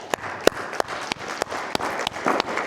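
A church congregation applauding in praise after a sermon, with irregular sharp claps and crowd noise over a steady bed of clapping, fairly close and lively.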